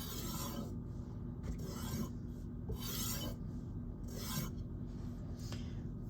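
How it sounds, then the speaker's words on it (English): A knife blade is stropped lightly on a sharpening stone to remove the burr, giving soft, rhythmic rasping strokes at a quiet, close level, with brief pauses between passes and no talking. "I always do a few strops to get rid of the burr. And these can be done at a rather high angle, and I'm just doing them light"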